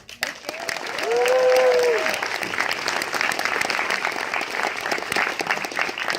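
An audience at a Halloween 4 30th anniversary Q&A breaks into loud, sustained applause that swells and holds, with cheering voices rising briefly near the start.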